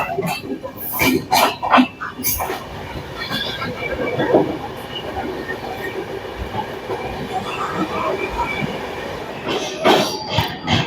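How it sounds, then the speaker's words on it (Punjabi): A Sarbat Da Bhala Express train pulls out of Kapurthala railway station, rumbling steadily along the tracks with rhythmic clatter and occasional wheel squeals, the sound rising and staying loud throughout. "ਆਪਣੀ ਟ੍ਰੇਨ ਕਪੂਰਥਲਾ ਰੇਲਵੇ ਸਟੇਸ਼ਨ ਤੋਂ ਚੱਲ ਪਈ ਹੈ"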